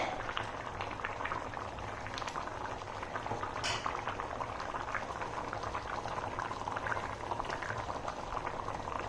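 Chickpea curry boils steadily in a pan, a dense bubbling simmer that stays even and close for the whole stretch, with no talking over it.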